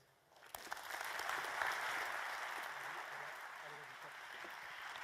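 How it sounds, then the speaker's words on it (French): Audience applause at an indoor corporate savings event, rising quickly into sustained, dense clapping from a large crowd that stays steady and moderately loud with no talking over it. "Vous pouvez l'applaudir un petit peu plus fort que ça"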